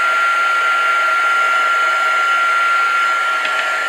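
A heat gun blows a steady, close whooshing roar while melting embossing powder on a handmade card, continuous and even throughout with no speech.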